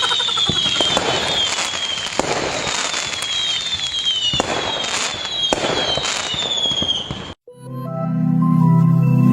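Diwali firework rockets whistle and crackle with repeated bursts, loud and close, then a sudden cut to a different noisy scene with a faint voice.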